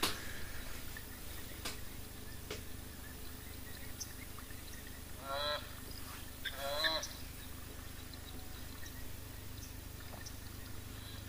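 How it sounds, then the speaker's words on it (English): Two short bursts of Egyptian geese honking at a distance, harsh nasal calls rising over a steady background hiss. "Got some Egyptian geese on the way now."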